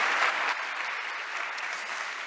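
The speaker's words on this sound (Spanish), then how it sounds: "Os pido un fuerte aplauso para ellos." Steady, dense applause from an audience after a panel debate on cybersecurity crisis management in local government, continuous and even throughout with no speech over it.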